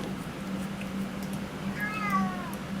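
A house cat named Yarpy gives a short meow near the end of the clip, with rising and falling harmonics. A steady low hum from a gaming setup runs underneath, and no one talks.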